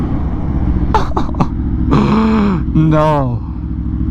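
An Aprilia RSV4 motorcycle rides on a city street, its engine giving a loud, steady low rumble that continues throughout while a rider grunts and talks over it.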